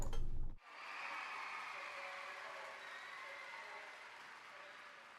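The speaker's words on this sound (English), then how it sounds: "The crowd noise." A distant video game crowd roars in a steady, faint wash of cheering and murmur after a short louder burst at the start.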